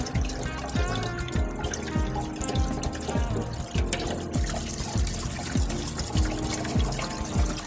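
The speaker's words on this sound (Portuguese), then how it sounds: "O próximo passo é lavar esse material em água de baixa pressão." Low-pressure water pours and splashes steadily over soil being washed in a sieve during a sieve analysis test, with a continuous liquid rush and repeated lower thumps in an even rhythm, close and fairly loud, with no talk.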